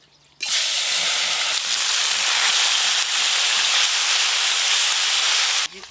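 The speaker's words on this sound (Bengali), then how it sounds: "আজকে আমি ছোট মাছ দিয়ে এই মাছ ভাজা শুরু করব।" Small fish pieces coated in mustard fry in hot oil, a loud dense sizzling hiss that begins abruptly and holds steady for several seconds before cutting off.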